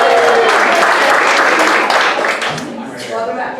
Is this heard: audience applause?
yes